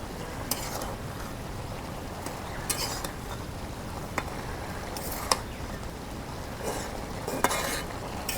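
Taro greens being stirred into a pan with dried fish and jackfruit seeds, a steady soft sizzle with intermittent scraping clinks of the utensil against the pan, close and continuous, no talking.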